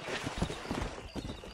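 A horse's hooves clip-clopping under a rider in Red Dead Redemption, a short burst of quick close hoofbeats over game ambience.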